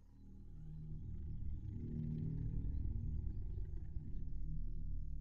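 A dinosaur roar from the Roblox game Dinosaur Simulator: a deep, rumbling bellow that swells after the first second and holds loud and sustained to the end, with no speech.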